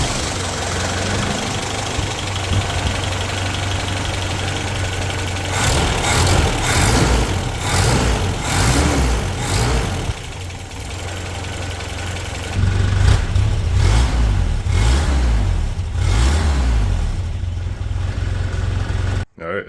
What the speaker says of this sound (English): it doesn't sound like it's leaking. It's not nearly as loud if it is. Exhaust sounds very quiet as well from the rear